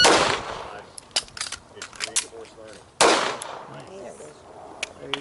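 Pistol gunshots crack at a shooting range, two sharp loud reports about three seconds apart with a few fainter shots and clinks between, while people talk quietly in the background.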